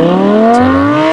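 Car sound effect in a poster animation: a loud, steady engine drone rising slightly in pitch, close and continuous for about a second, ending abruptly, with no voices.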